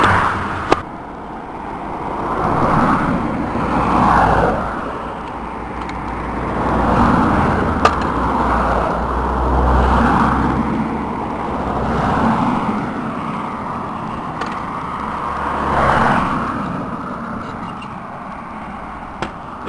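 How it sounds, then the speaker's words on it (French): A Touring Secours tow truck with its driver pulls away after removing a wheel, a steady low road engine rumble with a few surges, moderately loud and continuous with no talk over it. "Et voilà donc Françoise est partie avec le convoyeur de Touring Secours"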